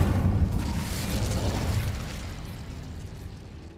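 Incendio fire spell cast at a cave entrance in Hogwarts Legacy: a loud, close whooshing burst of flame right at the start that roars briefly, then fades and thins out over a few seconds.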